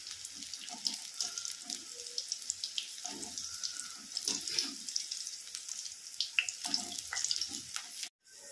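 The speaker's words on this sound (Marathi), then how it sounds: "याला आता मीडियम गॅस करून चांगले फ्राय करून घ्यायचे" Corn pakoda deep frying in oil over a medium gas flame, a continuous bubbling, crackling hiss with small pops throughout, moderately close and without talk.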